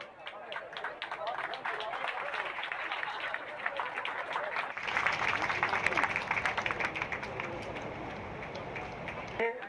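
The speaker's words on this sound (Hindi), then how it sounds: "जोरदार तालियों के साथ एक बार" Applause rises at a political village gathering in India, honouring a BJP figure, as a dense patter of many hands that swells louder partway through and carries on under a voice.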